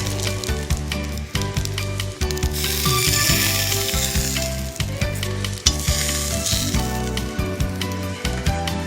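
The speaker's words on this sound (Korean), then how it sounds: "이렇게 자글자글 끓으면 이때 잘 구워놓은 등갈비를 여기에다가 졸여줄 거예요." Grilled pork back ribs simmer in a bubbling spicy sauce, producing a dense close crackle of popping bubbles throughout, punctuated by occasional clinks and scrapes of a utensil.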